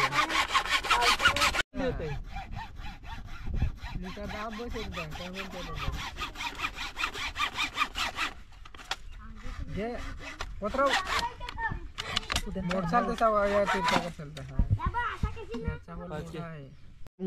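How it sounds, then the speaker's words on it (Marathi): Bamboo is cut with a hand saw outdoors, steady rhythmic rasping strokes close by, pausing briefly, with voices talking over the sawing. "तो फायनली कापून झालं ना आमचं बांबू"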